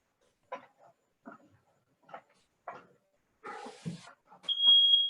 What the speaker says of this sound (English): Oh, sorry, that's the fire alarm.